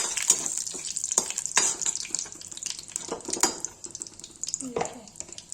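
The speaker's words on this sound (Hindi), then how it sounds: "इसमें लौंग, जीरा, तेज पत्ता, छोटी इलायची सब मिला देंगे, भून देंगे।" Cloves, cumin, bay leaf and small cardamom crackle and sizzle in a little hot oil for a gourd kofta curry, with a steady hiss broken by sharp pops and occasional stirring clatter.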